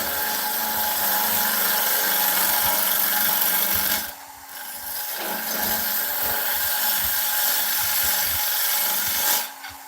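A carbide tool cutting a beech bowl on a woodturning lathe, giving a steady, loud rasping scrape over the machine's hum that briefly eases twice.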